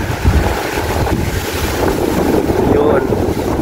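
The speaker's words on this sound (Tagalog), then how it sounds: "So ayan lang yung hangin dito sa lugar namin." Strong typhoon wind roars and buffets the microphone continuously, rising in gusts, with a faint rushing of water underneath.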